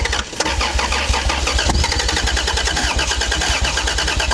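A Toyota Supra engine cranks and catches for the first time in 15 years, running loud and rough with a deep rumble, revving under held throttle throughout.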